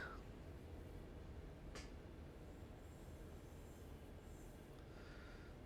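A long train rolls along in The Long Haul, giving a steady low rumble of wheels on rails with a brief squeal and a few faint higher tones.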